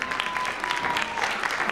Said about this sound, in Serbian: Jedan veliki aplauz dajte za naše balerine.